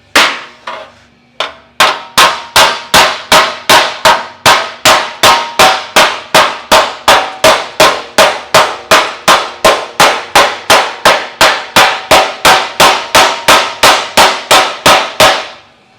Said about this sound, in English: start hammering it from the back side so that the weight of the dash and the pressure from my hammering on here will push that back